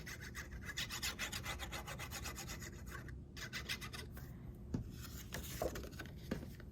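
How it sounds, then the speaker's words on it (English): Steady rubbing and scraping on cardstock pieces as adhesive is applied to their backs, close and soft, with a few small taps near the end. "We're going to add adhesive to the back side."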